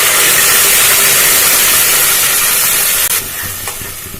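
Tomato paste hitting a frying Bengali tomato-potato curry, a loud steady steamy hiss that eases slightly near the end.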